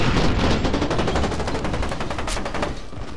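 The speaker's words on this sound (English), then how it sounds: "This guy's gun fired its entire clip at me" An enemy automatic weapon in the game F.E.A.R. 2 empties its whole magazine in one loud, unbroken rapid burst of shots, close and continuous from start to finish.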